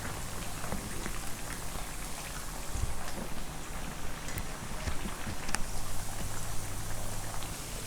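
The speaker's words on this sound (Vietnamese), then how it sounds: "Mình chiên cái khoai mình nó vàng thôi ha." Potato chunks fry in hot oil for a chicken coconut curry, a steady dense sizzling crackle like rain that holds constant throughout with occasional sharper pops.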